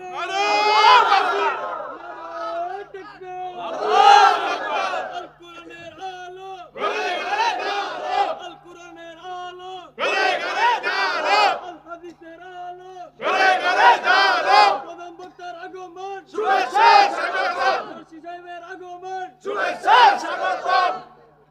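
A large crowd at a Bangladeshi religious sermon chants slogans in unison, seven loud rhythmic call bursts spaced a couple of seconds apart, each a massed shout that echoes, with quiet gaps between.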